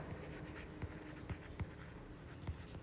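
A pen scratching out the volume formula for a rectangular prism on paper, a few short quiet strokes with faint tapping against a steady low background hum.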